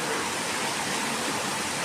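Rainwater leaking through a window into a room during a heavy hailstorm, with a dense, continuous rushing hiss of pouring water and rain heard close by, unbroken and with no talking.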